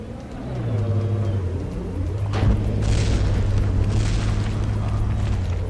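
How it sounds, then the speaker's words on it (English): Naval battle explosions in the From The Depths game boom as a deep, rumbling blast, with a sharp crack midway, over a constant low engine drone and hissing debris that lingers. "there was that explosion right there"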